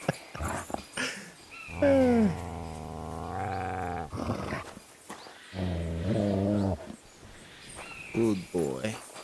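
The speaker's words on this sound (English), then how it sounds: "You're my doggy" A dog in the video game Kingdom Come Deliverance 2 whines and gives drawn-out, yowling vocal sounds in several bursts, loud and close, with short gaps and small noises between them.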